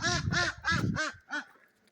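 Ducks quack in a quick run of five loud, nasal calls close by in the morning at a backyard flock, the last one slightly apart and softer.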